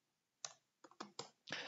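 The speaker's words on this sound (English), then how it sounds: "we can just start typing our notes." Close, quiet typing on a computer keyboard while entering notes, heard as a handful of separate key clicks and short clusters that end in a denser burst of keystrokes, with no speech.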